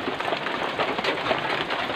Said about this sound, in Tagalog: Ito naman umuulan, so sana may tumunog.